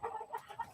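Chicken clucking sound effect: a quick run of three or four short, nasal clucks with brief gaps between them, clear and close with no talk over them.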